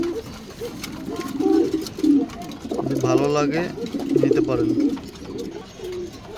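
A pair of chocolate pigeons coos in repeated throaty bursts close by, with someone speaking over and between the calls.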